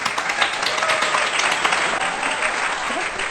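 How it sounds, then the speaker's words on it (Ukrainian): Applause from a studio audience at a talk show, a dense, loud wash of many hands clapping that holds steady from start to finish. "Аплодисменти Астрославі."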